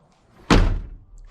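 A door swings shut with a single solid slam and a dull thunk that fades quickly, heard alone after a moment of quiet.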